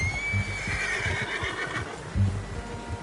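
A horse in Red Dead Redemption 2 whinnies loudly up close while hooves clop underneath, followed by snorting and more hoofbeats.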